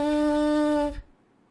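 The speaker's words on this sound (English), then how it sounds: "what we're going to do next is create a lip buzz" A trumpet player's lip buzz on the embouchure alone: a steady, buzzy tone held close for just under a second, then cutting off abruptly to near silence.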